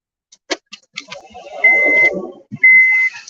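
Two sustained electronic beep tones, the second after a short gap, sounding over scattered clicks and a low rumble.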